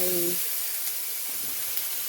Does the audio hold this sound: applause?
no